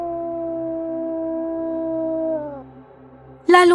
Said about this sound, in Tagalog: Lalong naging nakakakilabot ang gabi dahil sa mga alulong ng mga aso.